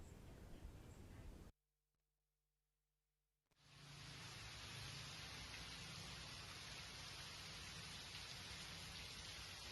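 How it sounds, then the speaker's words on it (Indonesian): Heavy rain falling in Denpasar, Bali, a dense hiss of downpour that cuts to near silence for about two seconds, then returns steady and loud for the rest. "Hujan lebat kembali mengguyur Kota Denpasar pada Senin 15 September 2025."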